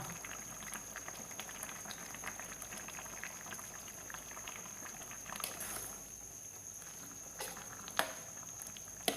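A pot of roasted bamboo shoots boils steadily with a soft, continuous bubbling and patter, heard up close. A few slightly louder pops stand out near the end.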